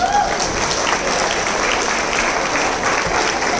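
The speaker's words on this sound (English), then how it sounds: "A big round of applause for them." An audience applauds dancers called on stage at a live flash mob training event, loud, even clapping from a large crowd sustained across the whole stretch, with no clear voices over it.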